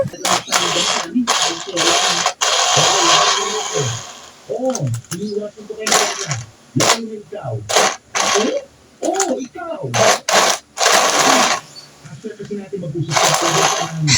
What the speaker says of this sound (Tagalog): Ang lalaki ba naman ang tipak ng yelo kaya naman nahihirapan nga din pala itong blender